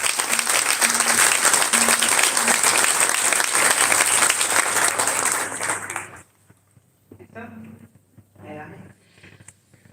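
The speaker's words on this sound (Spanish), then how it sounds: "Un aplauso para ella." A hall audience gives a loud, dense burst of applause at a legislative proposals presentation, with the clapping fading out after about six seconds. Brief speech follows in the quiet.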